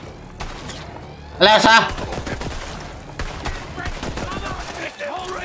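A laser weapon fires in Borderlands 3, a video game, with a loud burst of rapid shots around the middle and lighter gunfire and game effects before and after. Someone shouts and others talk throughout.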